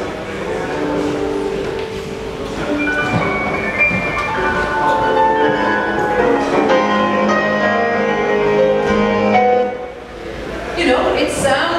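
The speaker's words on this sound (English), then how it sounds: "they discovered that wave nets could just make music just as a sort of an offshoot" WaveNet AI-generated music resembling classical piano, with a continuous flowing stream of overlapping notes and sustained harmonies, heard somewhat distant and reverberant, with a brief dip near the end.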